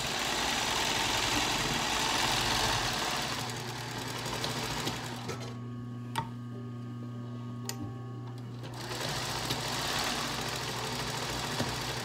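A sewing machine stitching fabric around a corner, a fast steady mechanical whir that stops for a few seconds with small clicks, then starts running again, close and without talk.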